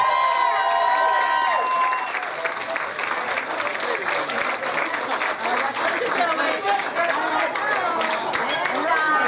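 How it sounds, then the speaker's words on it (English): Wedding guests clapping and cheering as the bride and groom, Joe and Linda Miksza, make their entrance, a dense, loud wash of applause from a crowd, with voices calling out over it. "a big round of applause for your brand new bride and groom, Mr. and Mrs. Joe and Linda Miksza!"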